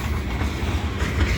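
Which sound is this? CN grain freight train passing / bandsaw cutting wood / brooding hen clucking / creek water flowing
CN grain freight train passing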